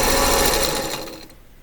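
A sewing machine stitches quilt pieces for an Alpine Cross sampler quilt, its steady motor whir running loud and continuous before slowing and fading near the end, with no voices.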